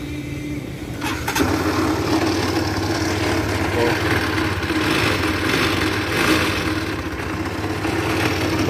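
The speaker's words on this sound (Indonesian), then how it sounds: "korang dengar bunyi enjin ni" A motorcycle engine with about 25,000 miles on it and a failing engine bearing starts and settles into a loud, rough idle, running steadily close by with a harsh mechanical rattle.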